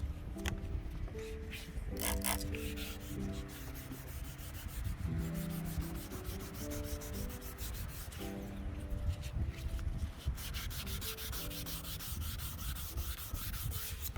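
Steady hand sanding of an oxidized car headlight lens, continuous back-and-forth strokes close up, with no talking.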